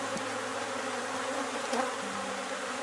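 A honeybee colony buzzes steadily at an open hive while the swarm is being divided, a dense continuous drone with a single brief knock partway through.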